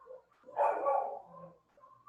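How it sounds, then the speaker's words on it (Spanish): A dog barks once, a single drawn-out bark a short way off, followed by a quieter muffled yelp or two in an otherwise quiet setting. "ya están poniendo a ladrar todos los perros"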